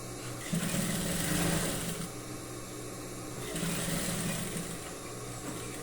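A sewing machine stitching a seam on knit panties, two bursts of rapid whirring stitching separated by a short pause, moderately close and fairly quiet.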